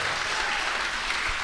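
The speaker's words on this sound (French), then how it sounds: "on offre une acclamation au Seigneur" A church congregation applauds in a dense, continuous wash of clapping that fills the room, steady and sustained throughout.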